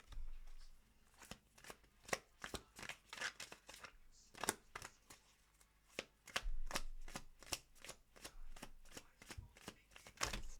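Tarot cards are shuffled close by in a long run of crisp riffling bursts, each a quick papery flutter repeating at a brisk, uneven rhythm with no talk.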